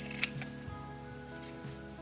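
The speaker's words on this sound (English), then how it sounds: "Special scissors that have a serrated edge." Serrated pinking shears snip through sewing fabric in a few short, crisp cuts, close and fairly quiet, with no talking.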